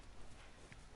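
Hoofbeats of the horse Carlos in The Last of Us video game: a quick, faint clip-clop of hooves over a noisy game background, about one second long, with no clear talking.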